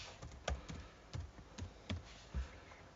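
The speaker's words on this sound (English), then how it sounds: "So type in your username and then type in your password." Username and password typed on a computer keyboard, heard as a quiet, uneven run of individual key taps spaced a few per second, close and alone.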